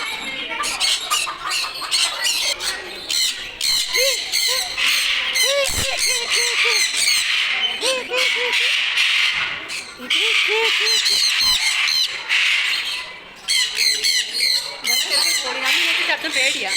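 A country chicken squawks and clucks repeatedly at a festival in Chengannur, loud and close, with crowd noise and voices around it.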